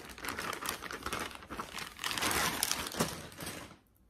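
Plastic wrap packaging is pulled off a Louis Vuitton Monogram Soufflot BB handbag, giving close, continuous crinkling and rustling for a few seconds before stopping abruptly.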